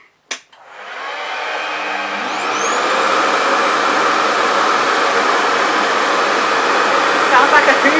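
A Revair reverse-air hair dryer starts with a click and roars steadily at close range, its loud whoosh holding for several seconds.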